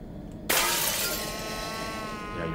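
In the horror video game VISAGE, a glass object is smashed: a sudden sharp shatter that bursts out loud after a low ambient hum, then tails off into a lingering ringing shimmer.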